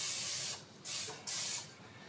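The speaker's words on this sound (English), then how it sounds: "For these, I'm gonna use this spray oil." Cooking spray oil hisses from a can onto meat as a binder before seasoning, in three short bursts separated by brief pauses, close and clear with no talking.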